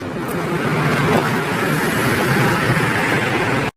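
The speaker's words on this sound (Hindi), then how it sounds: "हम गाड़ी में बैठते हैं।" A car gives a steady broadband road and engine rumble, moderately loud and unbroken for a few seconds, then cutting off abruptly.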